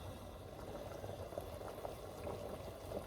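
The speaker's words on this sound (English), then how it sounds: "so that is boiling" Pot of liquid boiling on a home stove, a faint, soft bubbling and gurgling with small irregular pops, heard quietly and alone.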